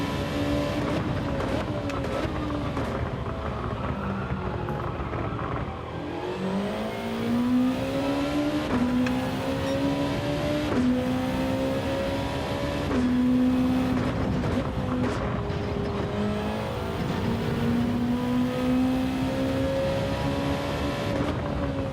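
A race car in the Gran Turismo 7 video game revs hard through gear changes, its engine note repeatedly climbing and dropping as it shifts up a hill in a lobby race, loud and continuous, with a voice commentating over it.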